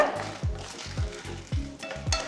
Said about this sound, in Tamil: அடுத்து நான் இதில் ஆறு காஞ்ச மிளகா சேர்க்குறேன்